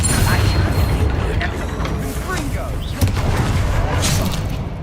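A Bombarda blasting spell explodes in Hogwarts Legacy, heavy booming bursts and rumbling impacts amid loud battle noise, with voices talking over it.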